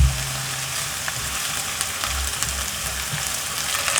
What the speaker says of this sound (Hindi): प्याज को अच्छी तरह से फ्राई कर लेंगे।